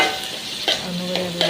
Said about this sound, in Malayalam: സവാള ഇട്ടെടുത്തു, വേഗം സവാള മൂത്ത് വരാനായി കുറച്ച് ഉപ്പിട്ട് കൊടുത്തു.